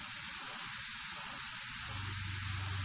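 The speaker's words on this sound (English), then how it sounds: "we're still going to keep quite a subtle coating with the airbrush" An airbrush sprays paint as a constant, close hiss that stays even throughout, with a faint low hum rising near the end and no talking.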